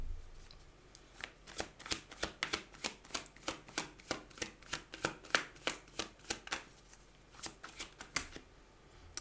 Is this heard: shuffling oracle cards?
yes